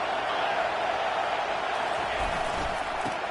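Stadium crowd in an NCAA football video game roaring as a steady, dense wash of noise, with a commentator's voice faintly underneath.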